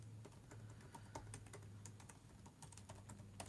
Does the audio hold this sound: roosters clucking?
no